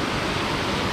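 Achankallu waterfall at Konnakkad in Kasaragod, running low after a sunny day, heard as a dense, steady roar of falling water, close and continuous without any talking.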